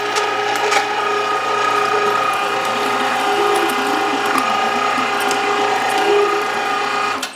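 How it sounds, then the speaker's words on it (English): An electric meat grinder, switched on by a foot pedal, grinds meat for bratwurst with a loud, steady mechanical whirring and gear clatter throughout, then cuts off at the end. "All right, so I've got some meat down the throat of my grinder."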